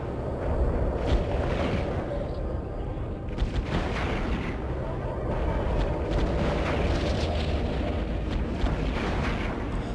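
Ship guns in the space game Eve Online firing Iron Charge S long-range ammo, a steady dense barrage of booming shots layered over a constant roaring rumble, loud and continuous throughout.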